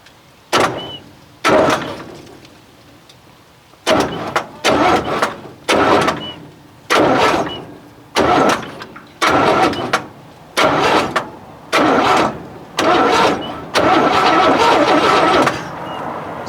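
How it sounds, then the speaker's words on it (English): A long-abandoned 1965 Chevrolet C10's 292 inline-six engine cranking over in a series of short bursts, about a dozen loud whirring attempts with brief pauses between, up close. "I'll probably just bump it over, see if I could get this engine to make a complete turn."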